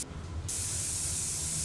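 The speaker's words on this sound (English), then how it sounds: "I'm actually thinking about using this black spray paint for this piece." Black spray paint hisses from an aerosol can onto a piece of furniture, starting after a short pause and then spraying as one loud, steady burst without a break.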